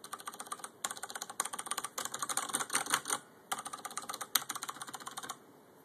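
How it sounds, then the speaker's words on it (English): Someone types on a quiet WASD mechanical computer keyboard, with bursts of soft, rapid key clicks separated by short pauses, heard close and alone. "Here's some typing on it. See how it sounds? Pretty silent."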